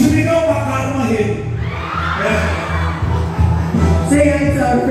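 Fans shout, whoop and cheer as a dense, loud crowd at the premiere night of the film Karma, a steady roar with scattered yells rising over it throughout.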